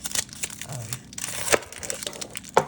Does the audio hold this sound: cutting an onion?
yes